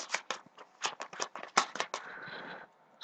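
Forbidden Island board game cards are shuffled by hand in a rapid series of crisp papery riffles and slaps, close and quiet, ending in a brief flutter.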